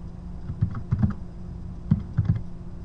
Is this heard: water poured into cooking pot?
no